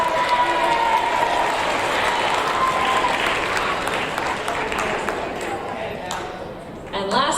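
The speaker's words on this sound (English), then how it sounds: "Please give these students a round of applause." An awards-ceremony audience applauds seventh-grade students with loud, dense clapping that runs continuously and fades slightly toward the end, when a few louder individual claps stand out.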